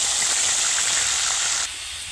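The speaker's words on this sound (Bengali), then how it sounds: "এদিকে দিয়ে দেব পেঁয়াজ বাটা" Onion paste hitting hot oil in a wok with whole spices and dried chillies, a loud, bright steady hiss and sizzle close up that drops abruptly to a quieter sizzle near the end.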